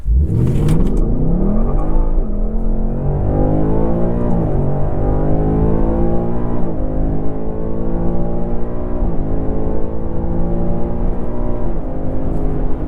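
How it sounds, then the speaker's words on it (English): A 2024 Ford Mustang GT Premium launches hard in track mode with traction control off, its engine note loud and close inside the car, revving up through rising gear pulls with brief dips at each shift. "We gotta try one more acceleration, right? Track mode, traction off."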